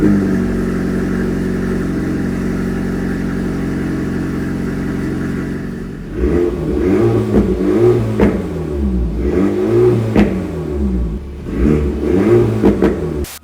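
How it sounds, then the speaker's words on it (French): An Alpine A110S sports car engine hums at a steady idle, then revs repeatedly in sharp rising and falling bursts, loud and close. "on va démarrer tout de suite, pied sur le frein, et on appuie sur le petit bouton start au milieu"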